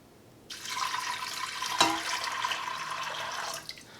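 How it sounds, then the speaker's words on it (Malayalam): Water pours steadily into a metal pressure cooker for about three seconds, a close splashing rush that stops abruptly. "ഇതിലേക്ക് വെള്ളം ചേർക്കുക."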